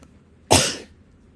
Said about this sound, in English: Oh my gosh, another really loud cough.